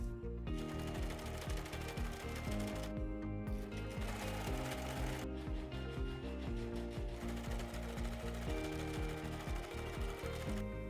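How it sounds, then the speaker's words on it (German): A sewing machine stitches pieces of jogging trousers together with a 1 cm seam allowance, running in steady mechanical bursts with brief pauses, close and fairly loud throughout. "Nähe dann die Teile mit 1 cm Nahtzugabe zusammen."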